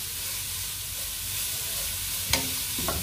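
Cabbage and carrot for a Kerala sadya thoran hiss steadily as they fry in a pan, close and even, with a couple of sharp spoon scrapes or clinks near the end.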